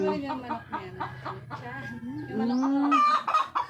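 A rooster clucks and calls close by in a rising throaty series, with other fowl noises and faint voices in the background.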